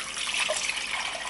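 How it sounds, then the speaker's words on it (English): Water poured into a pot as the base for chicken soup, a brief close hissing, splashing stream that runs steadily for a second or so. "And I'm going to add water in this."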